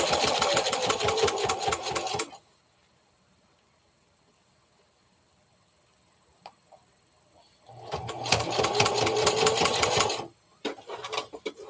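A sewing machine stitches a teddy bear in two loud close bursts of rapid rhythmic whirring and needle chatter, separated by a quiet pause with faint handling noise, then a brief stop-and-start at the end.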